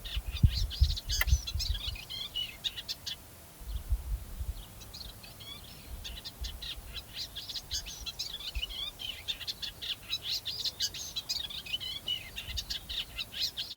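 A small wild songbird sings from a tree on Lesvos in bursts of quick chirps and trills, fairly close, over low rumbling background noise.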